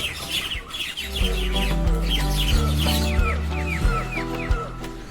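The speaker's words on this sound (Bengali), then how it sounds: "সেই সাথে পাখিদের কিচিরমিচির" Birds squawk and chirp in repeated calls around a temple at Ramu, with a steady low hum of the surroundings underneath and no talking.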